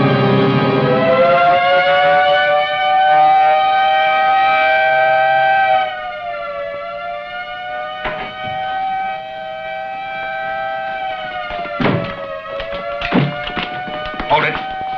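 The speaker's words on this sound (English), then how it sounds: "Sound the general alarm." A prison general alarm siren wails loudly and steadily, its rising tone holding and wavering for many seconds, with thumps and door bangs breaking in toward the end.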